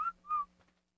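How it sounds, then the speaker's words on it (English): Whistle command in ARK, two short, bright whistled notes in quick succession, the second slightly longer, then fading to quiet. "Let's just do whistle follow all."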